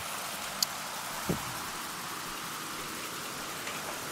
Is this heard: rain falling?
yes